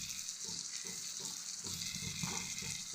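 Capsicum paste frying in a pan with onion and green chili, a continuous sizzling crackle with soft stirring scrapes, close and moderately quiet.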